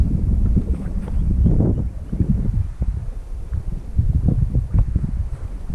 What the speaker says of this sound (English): That is a strong wind.